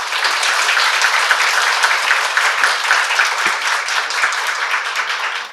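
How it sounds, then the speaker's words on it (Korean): Audience applause at a literary festival event in Seoul, loud and close, as a hall full of people claps steadily and continuously to welcome three writers to the stage. "세 분 모두 큰 박수로 환영해 주세요"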